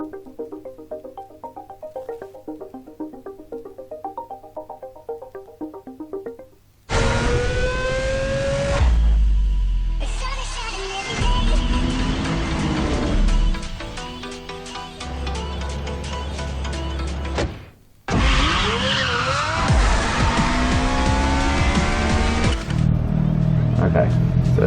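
Racing video game cars roar as their engines rev hard and tires squeal in long bursts, loud and continuous after a quieter menu-music opening, with short drops between runs.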